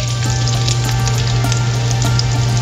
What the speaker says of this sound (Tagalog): O sigisan natin ang garlic.